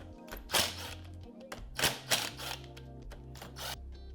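Bolts holding the clutch springs on a Yamaha TW200 motorcycle are backed off by hand, giving a few close, sharp clicks and clunks of tool on metal, fairly quiet, no talking.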